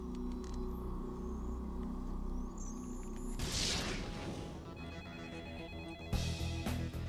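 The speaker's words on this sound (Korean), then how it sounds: "전화벨 소리에 잠을 깼습니다." A telephone bell rings over a dense bed of mechanical clatter and low rumble, growing busier and louder partway through.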